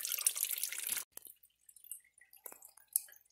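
Water from the filter of a 1959 B275 tractor pours into a drain pan in a steady splattering stream for about a second, then cuts off, leaving scattered faint drips and small trickles close by.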